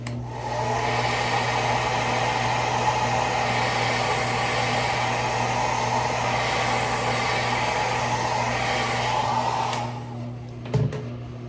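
A hair dryer blows steadily and fairly loud to heat a waxed mustache, a constant whirring hum lasting about ten seconds before switching off, with a few small handling clicks afterward.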